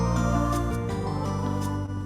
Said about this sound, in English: The waltz rhythm that I'm using now, I will tell you, is called lullaby.